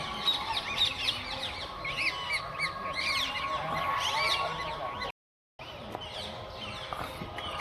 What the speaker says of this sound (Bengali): দেখো এখানে রাজহাঁস রয়েছে